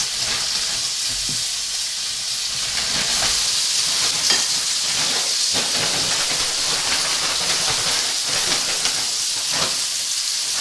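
Meat chunks browning in a hot pan for deep-filled steak pies, giving a steady, loud sizzle and hiss with crackling spits scattered throughout and no talking.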